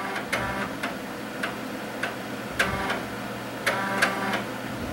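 A floppy disk drive in a Windows 98 PC reads a disk, giving irregular mechanical clicks and ticks of head seeks over a low steady whir, close and moderately quiet.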